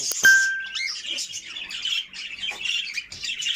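Pet cockatiels chirp close by in quick, bright, high-pitched bursts, with one sharp call near the start followed by a busy run of tweets and squawks that continues throughout, with no talking.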